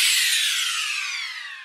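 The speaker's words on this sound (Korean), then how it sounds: "펄링 스타 이펙트라고, 펄링 스타라고 애플 룹스에 있는 소리들 중에서" A falling star sound effect from Apple Loops: a bright shimmering sweep that glides steadily downward over about a second and a half, loud and close, then cuts off abruptly.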